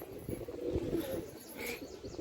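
Pigeons in a village being released to fly, with soft cooing and brief bird calls close by over a low background murmur.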